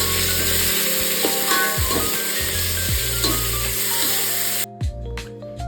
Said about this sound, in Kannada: ನಂತರ ಈರುಳ್ಳಿ ಹಾಕಿ ಗೋಲ್ಡನ್ ಬ್ರೌನ್ ಆಗೋವರೆಗೂ ಫ್ರೈ ಮಾಡಿ.